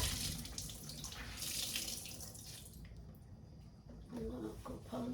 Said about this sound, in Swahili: Sasa kuosha vyombo.